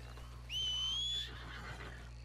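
A single horse whinny from the video game Red Dead Redemption 2, a thin, high, drawn-out neigh lasting under a second, fairly loud over a low steady background hum.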